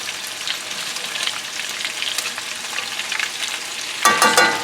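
Tonkatsu pork cutlets deep frying fully submerged in oil make a continuous close bubbling sizzle, with a sharper metallic clink of a utensil near the end; no one speaks.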